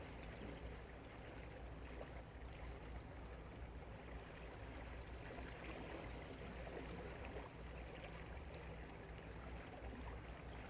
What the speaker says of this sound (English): Come back to the sounds of the water.